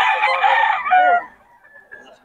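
A Boston Roundhead gamecock at a market crows once, loud and close, the call trailing off after about a second into quieter background noise.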